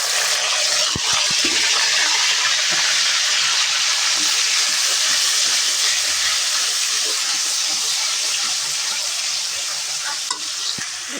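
Oil sizzles and crackles steadily as onions and green chilies fry in a pan, a loud continuous hiss with occasional stirring clatter up close.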